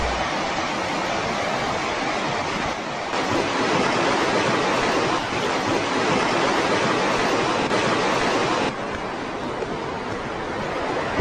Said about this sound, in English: the sounds of the Beaver River running down the canyon